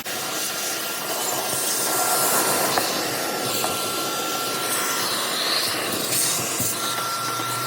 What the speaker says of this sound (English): Vacuum on down there.